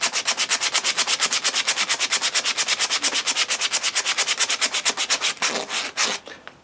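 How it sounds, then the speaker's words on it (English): Steady rhythmic rasping of hand sanding on a carved wooden spoon bowl, about eight quick strokes per second, close and loud, slowing and breaking up toward the end. "it's just a case of getting in there and doing that sanding"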